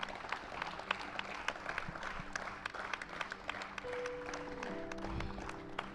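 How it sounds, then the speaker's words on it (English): Audience applause at a tennis championship ceremony after a gentlemen's singles final: steady, dense clapping from a crowd, fairly distant and soft, running the whole time with a few faint tones near the end. "A big round of applause, ladies and gentlemen."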